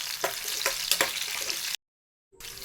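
Close, dense sizzling of onions frying in hot oil with tempering spices, a few sharp stirring scrapes, cut by a brief silent gap before resuming.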